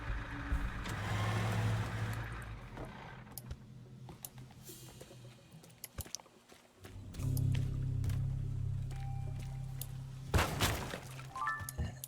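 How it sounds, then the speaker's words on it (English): A car in the video game Teardown creeps along slowly, a low engine rumble that swells and fades with occasional thunks and clatters, ending in a sharp knock. "So we're gonna just drive it on over carefully."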